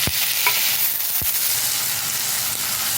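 Onions and tomatoes fry in a pan for mutton head varuval, a loud close sizzle that runs throughout, broken by two quick scraping stirs near the start.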